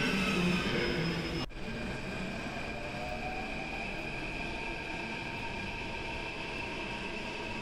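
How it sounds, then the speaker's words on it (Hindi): A Delhi Metro train arriving at a station rumbles steadily with a sustained mechanical hum and faint high whine, loud and continuous after a brief abrupt shift in noise. "कुछ और मेट्रो ट्रेन्स की झलक दिखला देता हूँ जो कि स्टेशन पे आ जा रही है"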